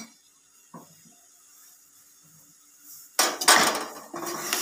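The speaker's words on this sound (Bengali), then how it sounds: "কড়ার মধ্যে আমি এই খেজুরের গুড়টা দিয়ে দিলাম।" Date palm jaggery drops into a wok with a sudden loud clatter and scraping, followed by a few seconds of busy metallic rattling close by after a mostly quiet stretch.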